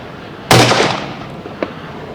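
A single 10mm Auto pistol shot fired with a hot 15-grain Accurate Arms No. 9 handload and 180-grain hardcast bullet cracks sharply and loudly, followed by a brief fading echo and a faint clink.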